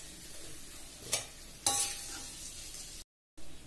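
Curry leaves and green chillies frying in oil for a potato curry, a steady sizzle with two brief louder bursts of stirring and a short gap of silence near the end.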